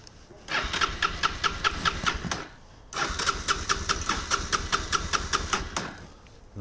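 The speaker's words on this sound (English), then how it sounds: "Try to start her up, have the choke on, fuel's on reserve position, and doesn't want to fire up." A 1999-2006 Yamaha TTR-250 motorcycle with choke on and fuel on reserve cranks in two long bursts of rapid, rhythmic starter churning separated by a short pause, never catching or firing up.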